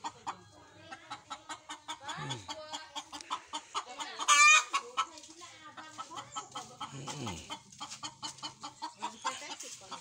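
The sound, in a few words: chickens clucking, hen brooding on a roof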